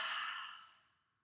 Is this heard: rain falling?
no